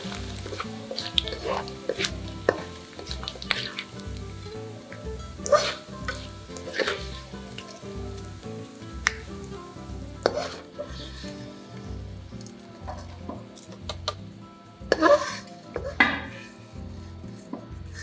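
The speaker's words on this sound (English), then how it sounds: "Fry 50 grams of cleaned anchovies." Cleaned anchovies frying in cooking oil in a pan, a soft sizzle underneath repeated clinks and scrapes of a utensil against the pan, fairly close and moderate in level.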